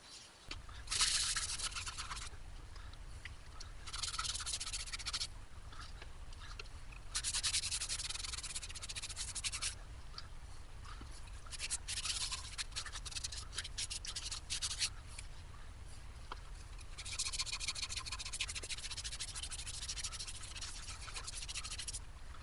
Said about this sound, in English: What I'm going to do now is just apply some sanding sealer.